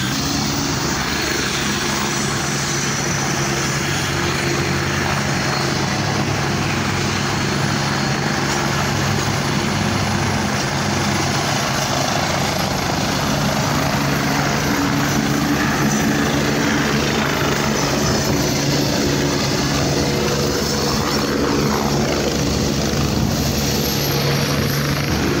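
Two helicopters sit together at a field, their rotors and engines making a loud, steady, continuous roar that fills the whole stretch with no talk over it.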